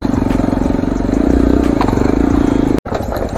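Motorbike ridden along a forest trail to Poison Lake near Rinchenpong, West Sikkim, its engine droning steadily and loud at close range with a pulsing rhythm, a brief dropout near the end, then continuing.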